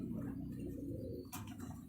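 Almari pigeons, a fancy breed with white markings, coo in a steady low murmuring rhythm close by, with soft gargling tones continuing throughout and no voices.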